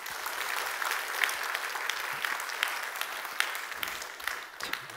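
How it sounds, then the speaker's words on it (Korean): A church congregation at a Sunday afternoon service applauds, a steady wash of many hands clapping throughout, moderately distant and uninterrupted. "박수 한번 해주셔요."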